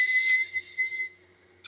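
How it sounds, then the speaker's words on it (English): A single loud, shrill whistle blast sounds for about a second, then trails off into quiet. "Whistle blown."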